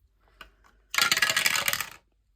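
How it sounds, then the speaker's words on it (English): A six-sided die tossed onto a surface: a couple of faint early taps, then a loud burst of rapid clattering rattles lasting about a second before it settles into silence. "I roll a 6-sided dice"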